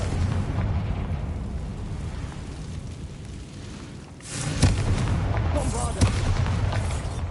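Confringo blast spell going off in the video game Hogwarts Legacy: a loud burst near the middle followed by a second sharp boom, over continuous rumbling game noise.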